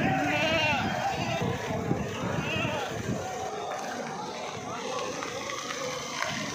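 Goats from a Kota lot bleat at the Deonar livestock market (bakra mandi) in Mumbai, their calls partly buried in a dense crowd din and nearby talk.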